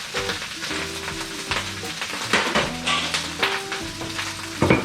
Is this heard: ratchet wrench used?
no